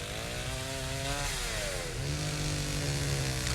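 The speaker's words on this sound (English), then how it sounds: "Kind of sounds like a engine revving." A chainsaw engine in the video game Nightmare of Decay drones and revs steadily, its pitch rising and falling in loud, continuous waves with no talking.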